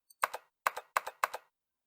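Keys clack on a computer keyboard in Nine Hours, Nine Persons, Nine Doors: four crisp, close double-taps in an even rhythm, alone with no talk.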